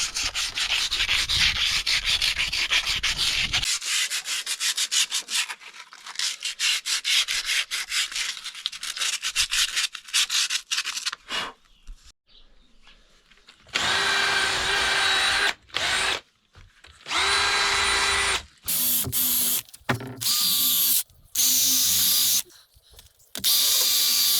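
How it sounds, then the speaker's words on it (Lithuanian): A power grinder sands rust off the front axle of a Fendt 716 tractor, a loud abrasive rasp that runs long, drops to a quieter stretch, then returns in repeated bursts with short pauses. "Visur reikia dabar rūdis nušveisti."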